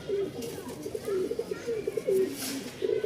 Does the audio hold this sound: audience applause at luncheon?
no